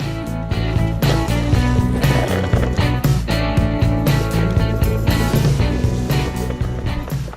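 Atom B10X all-terrain electric longboard riding outdoors, with a loud, continuous rolling rumble and motor drone that hold steady throughout, broken by a few sharp knocks.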